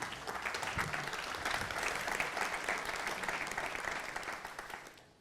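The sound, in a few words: audience applause for panelists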